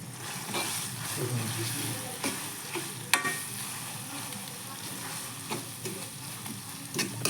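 Onion paste, garlic and ginger, chopped ahead, stirred in a pan while duck meat cooks, giving a steady sizzle with scraping strokes and a few sharper clinks of the spoon against the pan.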